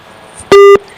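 A telephone ringback tone plays once during a prank call that goes unanswered: a loud, steady electronic beep lasting about a quarter second, alone, after faint background hiss.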